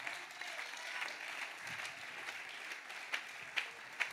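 A church congregation applauds steadily at moderate distance, a sustained wash of clapping with a few sharper, nearer claps near the end.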